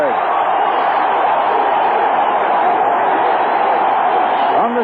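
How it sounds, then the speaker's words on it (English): Baseball stadium crowd in the 1986 NLCS Game 1 with the tying run on third, a dense sustained roar of cheering and whooping that holds loud and steady, no commentary over it. "And it goes to 2-2, and here's the crowd."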